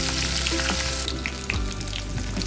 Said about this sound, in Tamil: சீரகம் ஆட் பண்ணி வறுத்துருக்குறேன் அப்புறம் கொஞ்சம் பூண்டு ஆட் வைக்கணும்